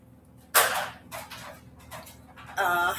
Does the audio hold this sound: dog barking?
yes